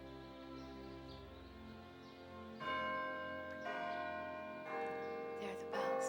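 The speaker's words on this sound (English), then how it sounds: "There are the bells." Church bells ring out in a few sustained, layered strikes that swell in loudness as new peals join, heard alone with faint rustling in the background.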